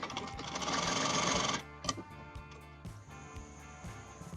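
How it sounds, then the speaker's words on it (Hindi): Domestic sewing machine stitching a fabric strip onto the side slit of a kurti: a fast, steady whirring run of needle strokes for about a second and a half, then stopping, followed by soft handling clicks and fabric rustles nearby. "और अब हम इसको वापस अपर साइड में भी ऐसे स्टिचिंग लगाएंगे।"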